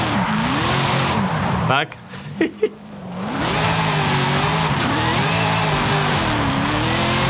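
A Dodge Hellcat widebody on 355 mm wide slick tires in Forza Horizon, its engine roaring and wavering as the tires squeal on asphalt, loud and continuous with a brief lull, while someone talks over it.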